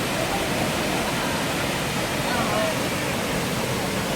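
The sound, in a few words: waterfall at Vintgar gorge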